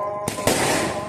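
Firecrackers set off during Hari Raya festivities in a Malaysian village: two sharp, loud bangs about a fifth of a second apart, the second followed by a crackling, echoing burst that fills the rest of the moment.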